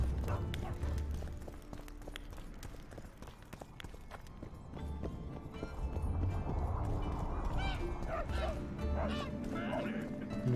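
A dog barks in The Witcher 2 in the town of Vergen, a few yaps standing out from busy in-game ambience with hoofbeats and bustle.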